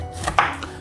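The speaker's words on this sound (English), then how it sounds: "then we're going to start mincing." A knife mincing onion on a cutting board makes two or three quick, close chops in under a second, with no voices.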